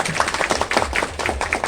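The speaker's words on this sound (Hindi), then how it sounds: "तालियां बजाइए।" Scattered hand clapping at an ex-servicemen's association annual general meeting as an honour scroll and medal are presented, a modest group clapping steadily and fairly close for under two seconds.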